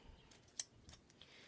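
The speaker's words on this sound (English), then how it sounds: "I don't think my scissors are going to cut through that" Small scissors attempt to cut through thick material during a chalk-art craft project, giving a single sharp snip and a few faint scraping clicks, quiet and brief.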